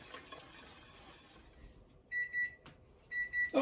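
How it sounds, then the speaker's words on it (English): A kitchen timer sounds in a home kitchen while chicken romano cooks, giving two short groups of bright electronic beeps after a stretch of low background noise. "let's turn the timer off here"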